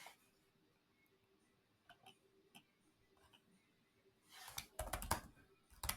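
Typing on a computer keyboard in a quiet room: scattered faint key taps at first, then a quicker, louder cluster of close clicks near the end.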